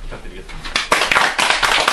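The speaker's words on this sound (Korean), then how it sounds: "큰 박수" Audience applause for a speaker at a Korean research institute lecture begins partway through, rising quickly into dense clapping right after a voice finishes speaking.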